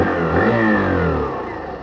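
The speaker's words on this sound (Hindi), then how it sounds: "अगर आप बाइक के यहाँ पे एग्जॉस्ट नोट को सुनना चाहते हैं तो आप सुन" Loud, close revving from the exhaust of a Hero Glamour 125 BS6 motorcycle, 2023 model: a steady engine note that swells and rises briefly, then eases off, with no voices.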